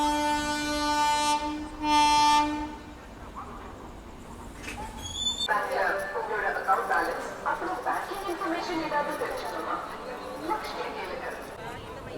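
A passenger train rolls slowly into Tiruchirappalli Junction, a long horn blast sounding at the start before giving way to a steady rumble of the carriages with faint station chatter in the background.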